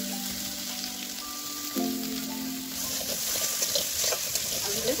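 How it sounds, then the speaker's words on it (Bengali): Potatoes with grated paneer sautéing in a pan, giving a steady soft sizzle and crackle with faint stirring throughout. "আলু আমার কষা হওয়ার মধ্যে গ্রেট করা পনিরটুকু আলুর মধ্যে দিয়ে দেব।"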